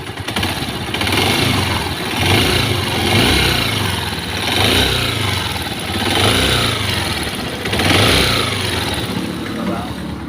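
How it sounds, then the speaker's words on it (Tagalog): A hot Kawasaki TMX motorcycle engine idles loudly nearby with a metallic rattle and periodic swells in revs, steady throughout. "Grabe ang kalansing kapag ka sobrang init ng makina niyan."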